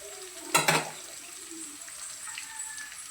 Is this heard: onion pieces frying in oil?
yes